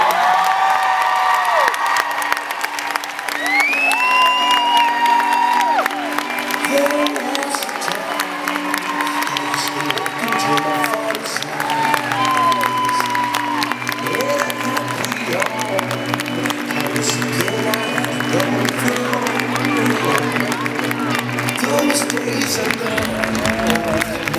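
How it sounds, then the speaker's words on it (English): A large arena crowd at a Mary Kay conference in Novi, Michigan applauds and cheers continuously, with whoops and shouts rising over dense, steady clapping throughout. "All right, I need you to keep the applause."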